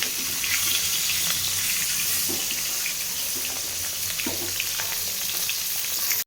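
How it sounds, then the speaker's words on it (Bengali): Fish frying in oil in a pan, a steady crackling sizzle with scattered pops that runs throughout at an even level, close and fairly loud, with no voices. "এবার আমি তেল দিয়ে মাছটাকে ভাজতে শুরু করে দেবো।"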